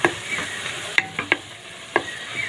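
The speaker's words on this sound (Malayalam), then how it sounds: "ഇതിവിടെ ചേർത്ത് നമുക്കൊന്ന് നല്ലതായിട്ടൊന്ന് മിക്സ് ചെയ്ത് കൊടുക്കാം." Vegetables are stirred in a pan after a piece of Maggi stock cube goes in, with a steady sizzle underneath and several sharp spoon scrapes and knocks against the pan. There is no talking.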